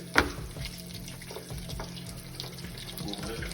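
Sea puppies appetizer frying in hot grease, a steady broadband sizzle and bubbling after a brief splash as they drop in, continuous and close.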